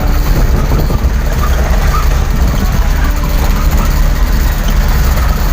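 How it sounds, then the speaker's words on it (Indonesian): A motorcycle engine runs on a road. It gives a loud, steady low rumble that holds unbroken from start to finish, with no talking. "Ini baru ada motor."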